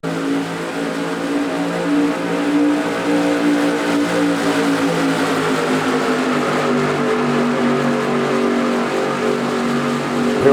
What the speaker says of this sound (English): I love the sound of 20 SK Modifieds here at Iowa at full song